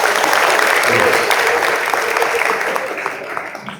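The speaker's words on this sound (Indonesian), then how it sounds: "Bagus, tepuk tangan." Applause from an audience at a talk on young people's role in democracy, loud and dense at first, then gradually thinning and fading, with voices faintly underneath.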